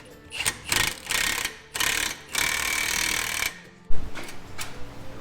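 An impact wrench with a socket working on a Corvair differential, several loud buzzing rattles in bursts of roughly half a second to a second, then a heavy clunk near the end.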